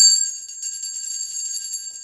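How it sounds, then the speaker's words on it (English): A notification bell chimes alone with bright, high ringing tones that hold and slowly decay for about two seconds. "hit the notification bell."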